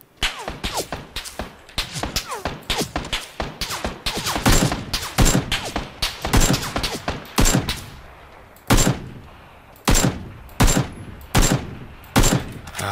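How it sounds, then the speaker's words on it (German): Gunfire in the battle-royale game PUBG (PlayerUnknown's Battlegrounds), a dense fusillade of rapid machine-gun bursts that thins into single loud spaced shots near the end, close and sharp with no talking. "Ja, und dann auch noch Schüsse."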